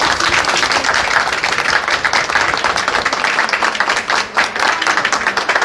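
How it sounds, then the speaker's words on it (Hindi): Dense applause from a crowd, continuous loud clapping that fills the whole stretch with no pauses or voices. "ये तालियां तो बनती ही है"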